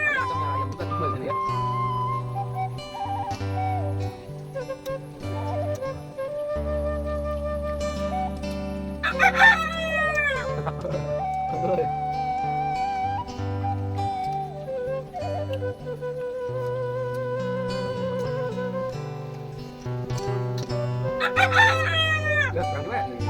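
A rooster crows twice, close, in rising, wavering calls that stand out over a steady bed of tonal, music-like sound running throughout.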